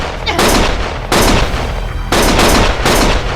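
Gunfire in the video game Lost Judgment comes in loud, close bursts of rapid automatic shots, three long volleys separated by short pauses; no voices.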